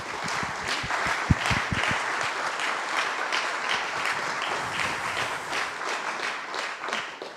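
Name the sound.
audience applause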